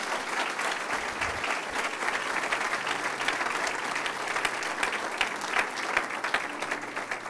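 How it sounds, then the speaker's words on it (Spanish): Steady applause from a church congregation fills the space for several seconds, dense and even with no break, a few faint voices mixed in. "Denle un aplauso al Señor, no se queda a la mitad de camino."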